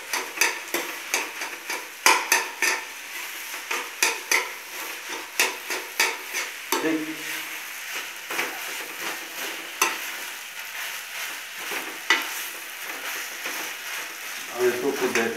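Jeera rice fries in a pan over high heat while a spoon stirs and scrapes it in quick, rhythmic strokes, with a light sizzle underneath and brief pauses between strokes.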